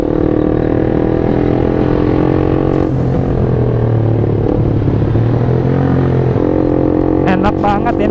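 A modified Yamaha Jupiter MX motorcycle with a loud aftermarket exhaust idles with a rough, throaty rumble throughout, close by, with a brief blip of revving near the start and clatter at the end.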